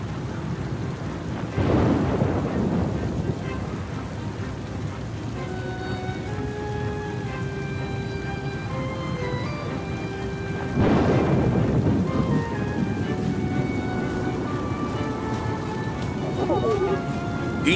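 In the video game Oceanhorn 2, a thunderstorm pours steady rain while two heavy rolling thunderclaps boom, one early and one midway, and faint musical tones rise beneath the storm.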